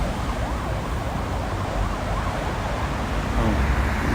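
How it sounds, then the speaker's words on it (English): An ambulance crosses a street in Seoul, its wailing siren faint and distant, largely buried under heavy, steady street noise. "It's an emergency vehicle, an ambulance crossing over there."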